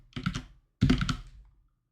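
Two short bursts of computer keyboard typing during a software tutorial, close and moderately loud, each a quick cluster of key clicks separated by a brief pause, with no talking.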